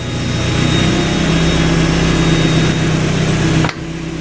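A Mazda Miata engine runs at a lowered idle, a steady loud mechanical drone up close that drops abruptly near the end before settling into a quieter hum.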